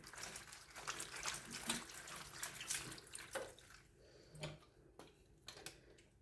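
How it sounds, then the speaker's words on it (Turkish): Running tap water splashing over a large carrot in a sink, steady moderate flow with small knocks and rubbing of the vegetable, close by and fairly quiet, no voices. "bir büyük havuç yıkayalım."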